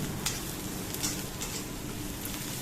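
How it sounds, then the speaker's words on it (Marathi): Chili paste frying in oil gives a dense, continuous close sizzle, with a few brief scrapes of stirring on top and no voices. "मिरची पेस्ट चांगली तेलात परतून घेऊ आपण कच्चा पण निघून जातो"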